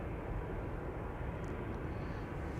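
An Air France A320 jet rolls along the taxiway at Amsterdam Schiphol, its engines giving off a steady broad roar with a low rumble, continuous and fairly close.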